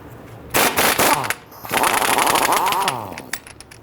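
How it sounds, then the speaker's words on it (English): A pneumatic air impact tool with a 32mm socket loosens the front axle nut on a 2011-2017 Nissan Quest, firing two loud, rattling bursts of hammering, the second longer and trailing off. "We're going to use a 32mm socket and our air tool to go ahead and loosen that nut."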